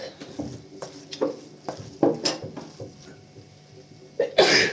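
A sharp sneeze, set off by pepper, bursts out near the end, close and loud, after scattered clinks, rustles and small throat noises.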